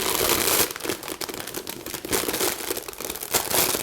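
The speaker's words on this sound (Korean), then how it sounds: "비닐을 먼저 깔고" Plastic sheeting being laid in a container for floral foam crinkles and rustles steadily for several seconds, close to the microphone, with no talking.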